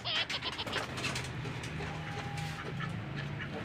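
Off-color pet pigeons cooing in a loft, soft low throaty coos repeating over a faint background of flutter and rustle, close but quiet.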